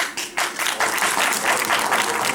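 A stadium crowd of about 125,000 people standing and applauding at a grand welcome and honor ceremony: loud, dense clapping that swells after a brief dip and holds steady throughout.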